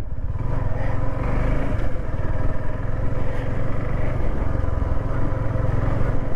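A motorcycle rides along a grassy road, its engine droning loud and steady with a low rumble and light clatter throughout.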